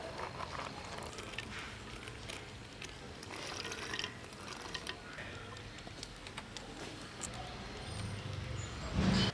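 Water poured into a pot of potatoes and soaked red chickpeas for kondai kadalai kulambu, a soft trickling and splashing with faint ticks, fairly quiet, ending in a brief louder burst.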